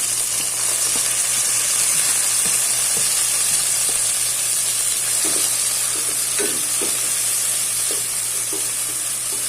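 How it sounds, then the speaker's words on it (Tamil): Tomato and green chillies sautéing in a pan with garlic, a steady close sizzle and hiss of frying with occasional stirring scrapes throughout, no voices. "தக்காளி நல்லா வதங்கிடுச்சுங்க"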